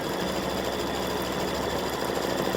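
Embroidery machine stitching an appliqué outline for a Thanksgiving gnome, a continuous fast whirring rattle, steady and close, with no voices.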